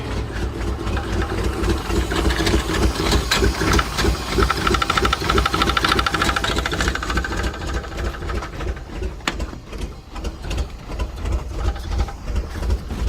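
Rolls Royce engine barely running and starved of fuel, idling roughly with an uneven knocking pulse and hiss, steady and close throughout with no voices.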